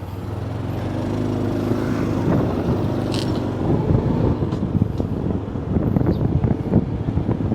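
Wind rushing over the microphone while riding a motorcycle on the road, a steady low roar with engine rumble underneath, continuous and close.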